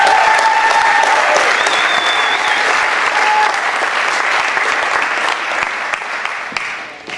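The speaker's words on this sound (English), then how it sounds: "Give him a good round of applause" Audience at a San Francisco poetry reading applauding a poet, a full, steady wash of clapping that fills the whole stretch and thins slightly toward the end.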